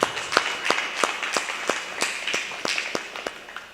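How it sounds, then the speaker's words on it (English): Small group applause at a virtual fundraising event for an adult day center, sparse individual claps in an irregular rhythm, fairly close and moderate in volume with no talk over it. "let's just give them a round of applause again"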